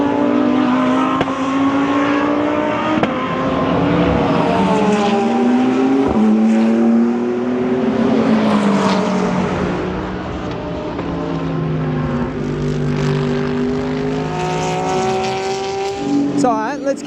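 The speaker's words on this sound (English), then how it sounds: "you get so many different sounding cars. But there's the BMW, and then the Lambos." DTM race cars, including BMW and Lamborghini machines, passing at the Nürburgring: loud engines with rising and falling pitch as cars accelerate and shift, several overlapping passes, near and sustained.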